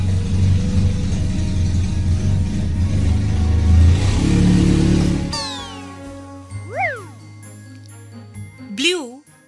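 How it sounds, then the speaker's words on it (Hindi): A cartoon black jeep engine roars and revs loudly for several seconds, then cuts off into playful chimes and swooping tones. "Black jeep."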